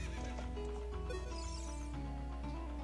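Epona, the horse in the video game The Legend of Zelda: Ocarina of Time, gives a loud whinny layered with hoofbeat clip-clops, all set over steady in-game background music.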